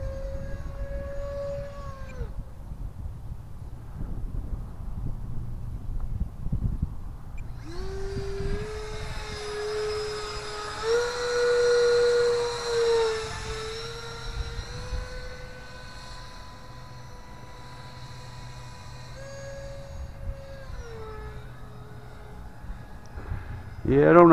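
A 64mm EDF ducted-fan motor in a Freewing RC F-16 jet on a 4S battery winds up to full throttle, a loud steady high-pitched whine that holds, wavers and then drops back.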